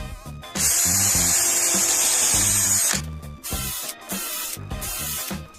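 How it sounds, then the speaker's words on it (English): A power drill drives screws into wood blocks to build homemade C-clamps, with a long, loud whirring run followed by shorter bursts and pauses, close up and with no talking. "And then just screw them onto your block, leaving one side hanging out."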